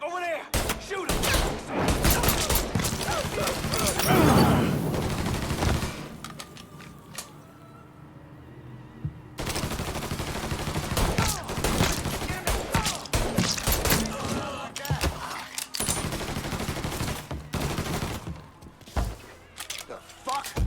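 Gunfire in the video game Mafia III Definitive Edition: loud clusters of shots and thuds come in bursts with a quieter gap partway through, while people shout over the fighting.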